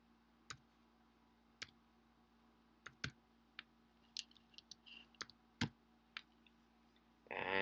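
A computer mouse and keyboard clicking while searching a database, sparse sharp clicks spread across the clip with a short burst of several quick clicks, close and fairly quiet, no talking.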